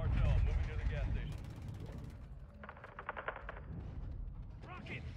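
Weapon fire in the Call of Duty Modern Warfare 2 campaign, with a burst of rapid shots followed by later bursts of gunfire, mixed with game sound effects and a voice speaking at the start.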